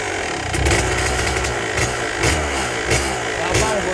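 A Kawasaki KDX200 two-stroke dirt bike engine runs nearby with a buzzing, raspy tone and repeated throttle blips in quick bursts.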